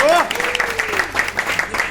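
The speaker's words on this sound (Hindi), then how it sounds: "क्या बात है, तालियां तालियां।" At a birthday party just after the birthday song, a few guests clap in quick, uneven bursts while voices talk and call out loudly over them, the clapping partly buried under the chatter.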